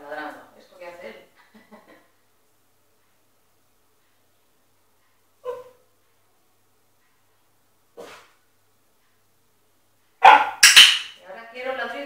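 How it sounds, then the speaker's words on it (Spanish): A dog in clicker training gives a few short, sharp barks spaced apart between quiet gaps, ending with a louder burst; a person's voice is heard at the start and end. "Ahora él sabe que ladrando consigue."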